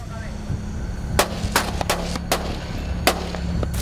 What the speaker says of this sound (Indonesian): Tembakan peringatan satu kali.